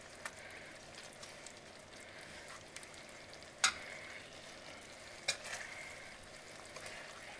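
Salmon simmers in a creamy garlic Tuscan cream sauce, giving a soft, quiet bubbling and faint sizzle with a couple of sharper pops and clicks, low and steady throughout.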